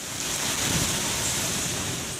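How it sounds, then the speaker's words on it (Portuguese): Strong storm wind blows over Parque das Universidades in Campinas, a steady, loud broadband rush with no breaks and no voices, roaring continuously throughout. "No Parque das Universidades é possível até ouvir o barulho do vento."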